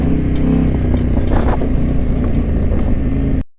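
A motorcycle rides along a rough, potholed trail road, with a steady loud engine drone and wind rumble and occasional knocks from the bumps, continuous until it cuts off abruptly.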